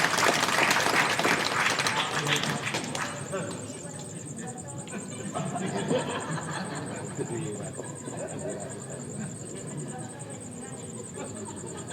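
Audience applause at a Hindu dharma talk, loudest over the first three seconds as a dense wash of clapping, then thinning into softer scattered clapping and murmuring crowd noise.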